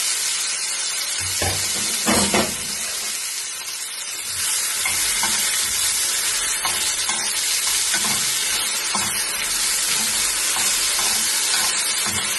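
Food sizzles and crackles steadily in hot oil, with occasional stirring scrapes and clinks of a utensil against the pan.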